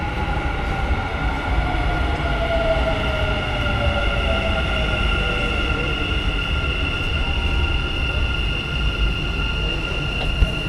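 Metro train in Dubai rolling into a station with a steady loud rumble and a high, drawn-out wheel whine, continuous and close throughout.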